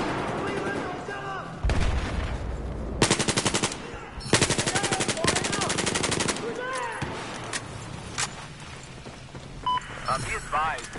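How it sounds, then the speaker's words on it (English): Hostile machine gun fire in the Battlefield 4 video game rattles out in several loud rapid bursts, mixed with voices talking between and over the shooting. "it looks like there's a hostile machine gunner"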